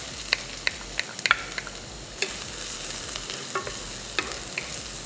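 Chopped onion sizzles in a hot pan with garlic and green chilies while a utensil stirs and scrapes, sharp clicks breaking through the steady close-up frying hiss.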